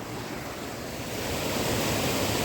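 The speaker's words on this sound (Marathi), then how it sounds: "इथून जे खाली पाणी पडणार आहे ते जाणार आहे देवगुण वॉटरफॉल" Water pours steadily over the top of Devkund waterfall in Plus Valley at Tamhini Ghat, a loud continuous roar of rushing water with wind noise, growing slightly stronger and heard alone.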